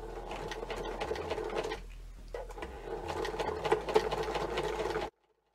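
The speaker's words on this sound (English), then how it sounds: "I'm going to reduce my stitch length and I'm going to sew around the edge." A sewing machine stitches around the edge of a bag base at reduced stitch length, running in a steady close whir with one brief pause before it picks up again and then stops abruptly.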